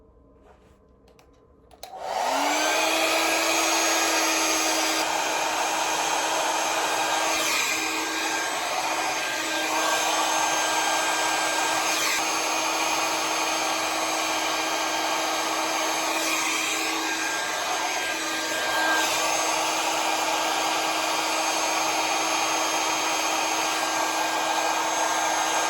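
A handheld hair dryer switches on during a round-brush blow out and then roars steadily and loudly at close range for the rest of the clip, with no talking.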